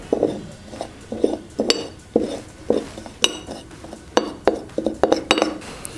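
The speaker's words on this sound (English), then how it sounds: "We'll mix up the sugar and cinnamon." Sugar and cinnamon for coating churros are mixed in a bowl, giving a quick, steady run of close clinks and scrapes as a utensil strikes the bowl's sides.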